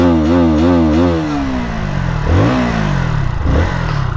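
A KTM Duke 160 motorcycle engine idles with a pulsing exhaust note, then revs up and down in a couple of sharp throttle blips, close and loud.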